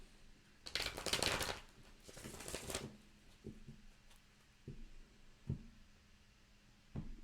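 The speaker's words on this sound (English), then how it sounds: "One more shuffle." Two loud bursts of tarot cards being riffled and shuffled, followed by quieter soft taps and thumps as cards are handled and laid down.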